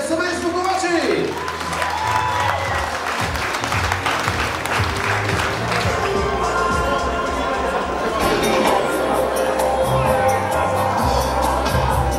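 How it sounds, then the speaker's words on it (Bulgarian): Guests at a Bulgarian wedding applaud and cheer loudly for the newlyweds, sustained dense clapping with whoops and shouts from a large crowd indoors, with music and voices mixed in. "да чуем вашите аплодисменти за най-новото, най-младото семейство на България, семейство Ковачеви"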